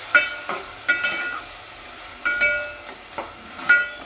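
Ginger paste frying in a pan for drumstick tomato curry, a faint, soft sizzle punctuated by about six sharp spoon taps and scrapes against the pan, with no talk.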